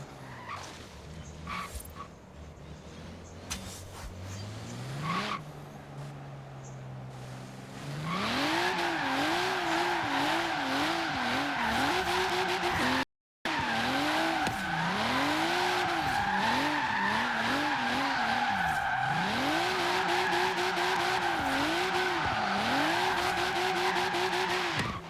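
A car freestyle drifting during qualifying at a drift competition, engine revving hard with a rising and falling wail as tires squeal continuously, loud and sustained for about twenty seconds after a quieter idle at the start.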